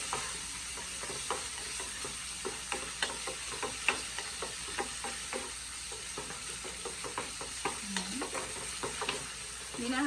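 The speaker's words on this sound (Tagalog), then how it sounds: "So let's cook first our bacon." Bacon frying in a pan, with a soft, steady crackle and frequent small spits and pops, fairly quiet and heard close with no voices.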